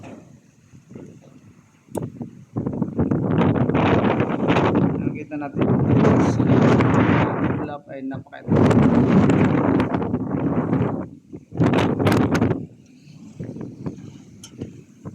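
Strong storm gusts with rain roar and buffet loudly in long surges at night while a person talks over the wind.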